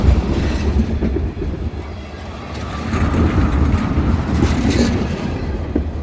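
A CSX freight train with a single engine rolls past at night, a loud continuous rumble of wheels and rattling cars holding steady close by.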